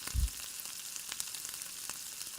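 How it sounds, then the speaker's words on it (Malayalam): Pepper and turmeric powder sautéing in a pan for quail egg masala, a continuous bright sizzle with a soft thump at the start and faint intermittent crackles, close and unaccompanied by talk. "ഇത്രയും ചേർത്ത് കൊടുത്തതിന് ശേഷം നന്നായി വഴറ്റിയെടുക്കണം"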